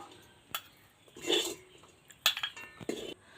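Semolina halwa scraped from a pan into a bowl, giving a few light metallic clinks and scrapes of spoon against cookware, soft and close, with short pauses between the strokes.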